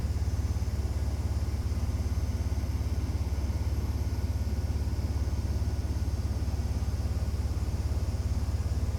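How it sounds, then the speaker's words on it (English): Train engines run at full power in Train Sim Classic on the Manchester Piccadilly to Liverpool Lime Street route, giving a continuous heavy low rumble with a fast, even throb. The sound stays steady and close throughout, with no talking. "Hear the engines roar."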